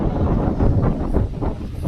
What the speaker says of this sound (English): it's really getting windy up here